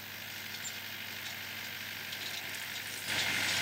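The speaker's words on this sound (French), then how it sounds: "au volant de son tracteur, sœur Véronique Marie ne chôme pas" A tractor engine runs steadily on a Benedictine monastery farm at Rozan, worked by a nun at the wheel; a constant low mechanical drone sits under broad noise, rising slightly louder near the end, with no talk.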